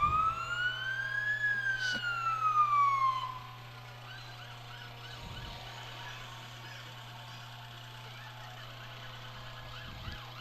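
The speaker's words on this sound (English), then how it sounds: "the sound you hear in the picture you're looking at is from the big ladder truck from the Waupaca Volunteer Fire Department" A Waupaca Volunteer Fire Department ladder truck's siren wails in rising and falling sweeps at a Fourth of July parade in Waupaca, loud for the first three seconds, then cutting off. A steady engine hum continues underneath.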